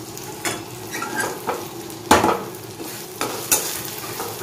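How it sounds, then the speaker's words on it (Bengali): Onions frying in a pan give a continuous sizzle, broken by about eight distinct scraping stir strokes at an uneven rhythm, close and clear with no voices. "পেঁয়াজটা ভাজা হয়ে গেছে"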